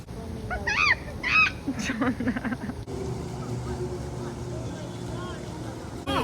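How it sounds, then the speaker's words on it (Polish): Live flamingos honk in a few quick, nasal bursts near the start, then ambient murmur and a motor hum carry on, with people talking nearby. "a tutaj mają żywe flamingi, więc sobie szybko rzucimy okiem"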